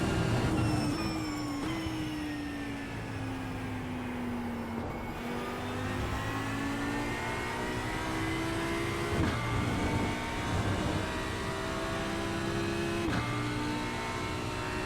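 Audi GT3 race car in a video game at Mugello, engine droning steadily and climbing through gears with repeated upshifts, loud and continuous with no talk.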